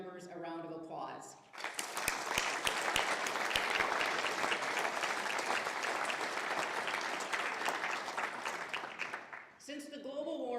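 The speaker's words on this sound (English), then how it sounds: "Let's give all of the employers who are supporting our Guards members a round of applause." A large crowd at a military police welcome home ceremony bursts into sustained applause that swells and continues for several seconds, with a speaking voice briefly before and after.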